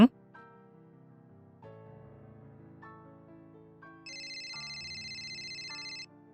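A telephone ringtone plays as a chain of clean electronic notes stepping through a simple melody, with a brighter, sustained high tone joining partway through before it stops.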